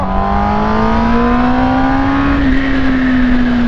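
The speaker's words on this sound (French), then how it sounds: "Là j'accélère à fond, je suis en deuxième à 80." An inline four-cylinder motorcycle accelerates at full throttle in second gear, a loud, close, continuous engine howl whose pitch climbs steadily over a few seconds, with no voices.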